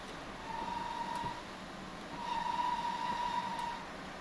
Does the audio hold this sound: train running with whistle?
yes